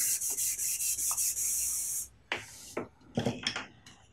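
Guitar neck rubbed with 400 grit sandpaper, a run of quick back-and-forth hissing strokes up close, followed by a few lighter scuffs and handling knocks.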